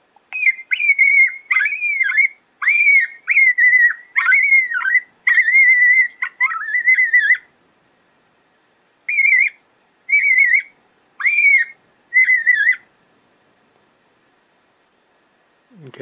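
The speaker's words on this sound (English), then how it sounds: "the next one is the adult coyote" Adult coyote call from a Primos Dogg Catcher electronic predator call, a series of loud, wavering high-pitched howl-like notes in bursts, a run of about ten then a gap and four more.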